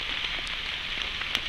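Rain falling steadily outdoors, a soft continuous hiss with scattered faint drop ticks and no voices.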